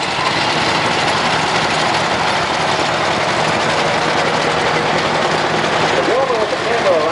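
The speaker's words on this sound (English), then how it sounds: "We have a 40s model, I believe it's in the 40s, probably late 40s. Model 8 John Deere." Loud, steady engine rumble of a late-1940s John Deere tractor up close at an antique farm fair parade, running continuously with a rough mechanical drone and a brief voice near the end.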